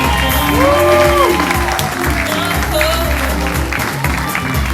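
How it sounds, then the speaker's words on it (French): Audience applause at a wax-print fashion show runway event, a steady wash of clapping mixed with crowd noise and playing alongside loud background music throughout. "Maïwen, Maïna et Jalia sous applaudissements, mesdames, messieurs"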